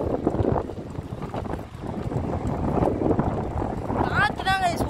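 Strong wind buffets a microphone while cycling near Kanyakumari, a loud continuous low roar and rumble with gusty surges and a brief whistling tone near the end.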